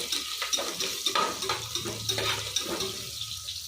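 Curry leaves frying in hot oil in a pan, a soft continuous sizzle with light stirring scrapes and small bursts, close and moderately quiet, no talk.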